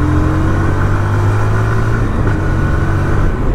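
A 2024 TVS Apache RTR 160 2V motorcycle engine revs hard on the throttle, a loud, steady, buzzing roar with rising and falling pitch, heard up close with no talking.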